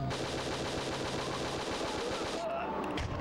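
Rapid, continuous automatic gunfire from the PS2 game Winback: Covert Operations, a dense rattling burst that fills the whole stretch and thins out near the end, with faint talk mixed in.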